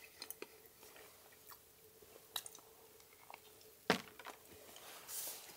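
Someone chewing a bacon, relish and sourdough sandwich at a rainy wilderness tent camp, soft close bites and moist chewing scattered over quiet background hiss.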